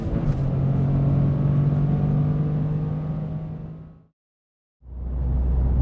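A Toyota GR Corolla hot hatch accelerates hard in second gear toward the redline on track, its engine a loud, buzzy drone. The engine cuts out abruptly for a moment, then surges back.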